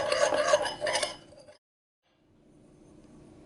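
Seasonings are stirred together in a bowl, giving a short, close scraping and clinking for about a second and a half before falling to near silence.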